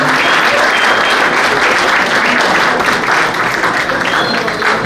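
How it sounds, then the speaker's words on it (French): A crowd gives continuous applause for a prize winner at a press cocktail event, dense clapping held at an even, fairly loud level throughout. "Applaudissements s'il vous plaît"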